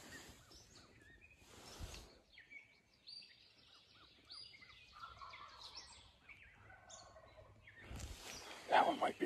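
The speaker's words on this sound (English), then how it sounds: "That's the gobbler over there by the sounds of the gobble." A wild turkey gobbler gobbles in the distance, a rattling call heard faintly outdoors, with brief low voices nearby.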